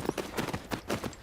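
Horse hooves clip-clop in a steady rhythm of distinct thuds in the video game Tales of Rein Ravine, fairly close and alone.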